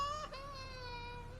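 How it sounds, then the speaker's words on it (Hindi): An infant cries in an odd, eerie, unnatural way inside a home at night, with a thin, wavering, drawn-out wail over a low background hum. "ये अचानक बच्चे के रोने की आवाज कहां से आने लगी?"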